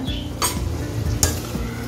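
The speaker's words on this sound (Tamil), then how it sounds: "வந்து பார்த்துட்டு அப்படியே ஒரு கிளறி விட்டுருவோம்" Stirring vegetable gravy in a pot, two sharp scraping clinks of a spoon against the pot over a low bubbling background, fairly close.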